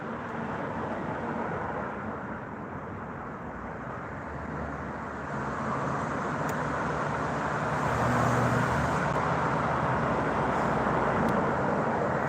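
Steady stream of road traffic on a London street, with cars including a Range Rover, Mitsubishi, Audi and BMW passing by in a continuous broadband roar that swells slightly in the second half, with no talk.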